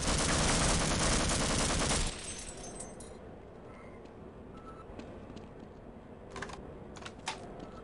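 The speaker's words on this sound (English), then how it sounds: "Intentional typing." Dense rapid computer keyboard typing, loud and continuous for about two seconds and then dropping to quieter clicking with scattered sharp taps, heard during a first playthrough of the PC game Half-Life.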